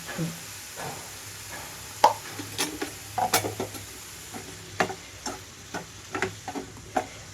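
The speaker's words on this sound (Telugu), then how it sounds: "లో టు మీడియం ఫ్లేమ్ అడ్జస్ట్ చేసుకుంటూ ముక్క అంతా చక్కగా వేగిపోవాలి" White brinjal pieces fry in a covered pan over low to medium flame, giving soft, scattered crackles and pops at a fairly quiet level, with no voices.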